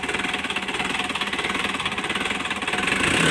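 Two tractors, an Eicher 485 and an Ace 450 DI, run their diesel engines close by outdoors with a steady, throbbing, knocking idle that swells slightly louder toward the end.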